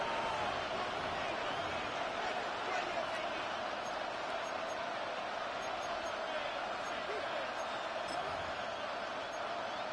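Loud, steady stadium crowd roar in the Madden 26 football video game, a dense continuous wash of cheering that stays constant for the whole stretch with no breaks.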